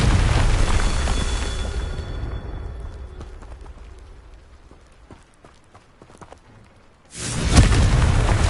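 A Confringo fire spell explodes in Hogwarts Legacy with a loud blast that fades over several seconds into clattering debris, followed by another sudden booming impact.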